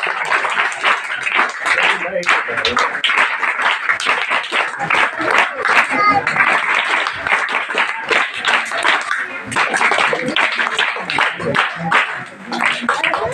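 An audience at the opening of a learning centre claps and applauds in a dense, sustained burst of many hands, loud and continuous from start to finish.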